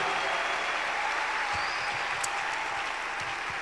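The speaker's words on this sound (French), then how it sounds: "Clap your hands." A church congregation claps their hands together at a bilingual worship service, dense continuous clapping throughout, close and fairly loud, with no talk on top.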